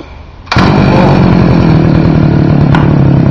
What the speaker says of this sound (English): That's how you get it started.